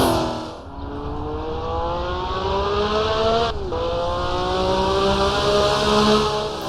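A vintage race car in Assetto Corsa revs hard, its engine note climbing steadily, dropping briefly at a gear change, then rising again, loud and close with no talk.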